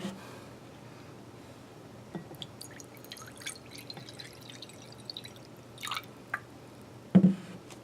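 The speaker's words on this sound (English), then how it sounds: "I'm going to go ahead and add a little more water, stir it up" Eggplant pulp and seeds stirred and swirled in water, giving soft wet drips and squishy splashes at moderate level, with a louder sloshing burst near the end.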